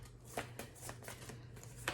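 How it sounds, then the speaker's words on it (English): Tarot cards being shuffled by hand at a table, a steady run of soft riffling and slapping sounds, close and fairly quiet, with a low hum underneath. "Okay, so shuffling."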